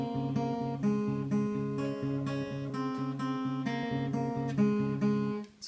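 Finger-played guitar chord progression in C, with a plucked bass note and chord tones repeating in an even, steady pattern, close and mellow with no talking.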